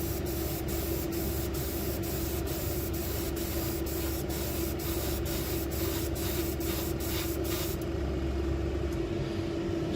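Close, steady hiss of an airbrush spraying fabric paint, with faint rhythmic ticks throughout and a constant low hum beneath, continuing without talk.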